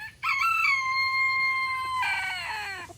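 A free-range chicken crows loudly and close, one long drawn-out call followed by a second that trails off, with no other sounds around.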